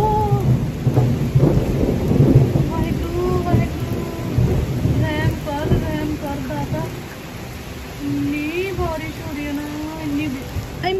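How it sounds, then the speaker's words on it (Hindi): Heavy rain pours steadily during a night storm with lightning and thunder, a dense roar filling the whole stretch, while voices talk intermittently over it. "देखो कितनी बारिश हो गई"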